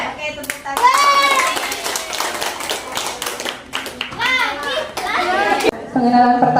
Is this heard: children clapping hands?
yes